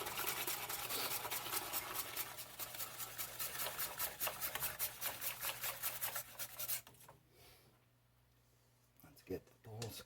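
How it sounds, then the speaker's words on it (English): Whisk beating rapidly against a bowl as eggs are slowly added to a lemon curd mixture, a fast rhythmic scraping that stops partway through, with a voice talking quietly under it. "Now we're going to slowly add the eggs while we're whisking"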